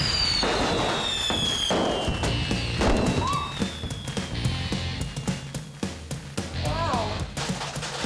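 Fireworks set off indoors in a bedroom as a full New Year's Eve style display, a rapid close series of sharp bangs and crackles with whistling rising streaks, loud and echoing in the small room.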